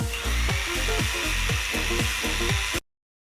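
A power drill spins an ordinary nail fitted as a homemade drill attachment. It gives a loud, steady whirring whine with a regular rhythmic pulse, then stops abruptly.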